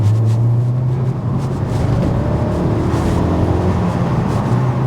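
A Ford Focus ST3 with a 2-litre four-cylinder engine runs with a steady, bassy exhaust burble. It idles and revs lightly and stays loud and close throughout, with no talking.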